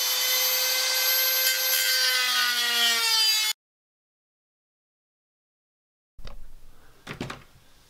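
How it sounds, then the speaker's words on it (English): A Dremel rotary tool with a small attachment cuts through plastic sheet for a samurai kabuto helmet, giving a loud steady high whine for several seconds that drops in pitch under load. Silence follows, then brief handling noises. "I'm going to take my Dremel with my sweet little attachment."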